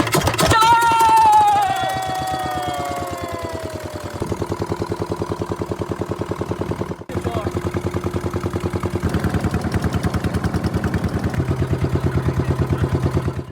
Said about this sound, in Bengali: আর এখন দেওয়া হবে ইঞ্জিন স্টার্ট।